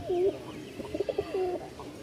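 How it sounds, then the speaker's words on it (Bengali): Pigeons coo in a few soft rounded phrases at a pigeon sale in Mirpur-1, Dhaka, with low background murmur and no speech over them. "ডিম বাচ্চার জন্য বা উড়ানোর জন্য দুইটাই উড়নের কবুতর।"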